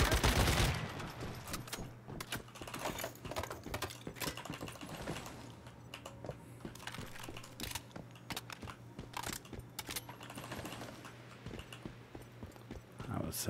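Rapid bursts of gunfire from the survival shooter Once Human ring out repeatedly in sharp clusters, loud and close, over a steady low in-game hum with a player's voice talking at times.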